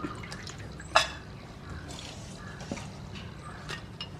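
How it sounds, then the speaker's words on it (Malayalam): Dried prawns being rinsed and drained in water, with soft drips and trickles, light splashes and a sharp clink of a vessel, all fairly quiet and close, no talking. "2 വെള്ളം നമ്മൾ കൊഞ്ച് കഴുകി വരി എടുക്കുകയാണിത്"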